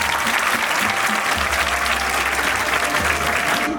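Audience applause at a municipal family-counseling talk in Gaziosmanpaşa, a thick, even roar of many hands clapping that stays loud and continuous throughout, with a low rumble underneath and no speech.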